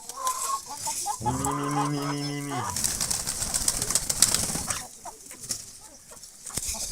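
Pigeons and chickens in a farmyard coop, with a short burst of loud clucking from a hen near the start, then soft cooing and twittering over a busy background.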